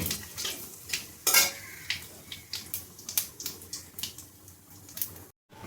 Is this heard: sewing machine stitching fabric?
no